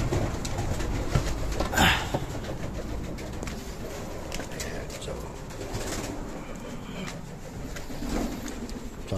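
Pigeons cooing in a loft, soft repeated coos and wing shuffles at close range under a steady ambient hiss, with someone talking quietly at times.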